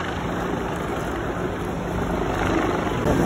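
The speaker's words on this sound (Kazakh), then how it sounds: "Кеминде 4-5 вертолет үстүбүздөн учуп турат тынбастан." Several helicopters, four or five, fly overhead above pilgrims at the Jamarat during Hajj, blending into a constant droning rotor wash that grows slightly louder toward the end.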